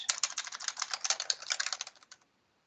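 Quick, steady keystrokes on a computer keyboard as values are entered, close and clear, ending abruptly in silence.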